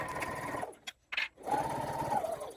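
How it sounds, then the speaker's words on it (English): A sewing machine runs close up in steady bursts as it stitches the straight exterior seam of a paper pouch, stopping briefly in the middle before whirring on again. "Now sewing down the straight side of the exterior"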